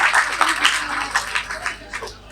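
Audience applause at a student association ceremony welcoming a guest to the stage, a steady patter of many hands clapping at moderate distance, with a voice speaking over it.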